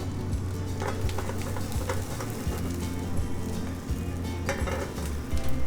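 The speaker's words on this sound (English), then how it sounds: "We'll throw our Brussels sprouts right in." Brussels sprouts tossed into a hot pan in a cafe kitchen, a loud, continuous close sizzle with scattered metallic clinks and knocks of pans and utensils, no talking.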